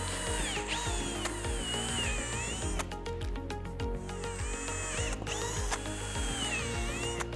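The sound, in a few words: drilling alignment holes in polycarbonate rear windshield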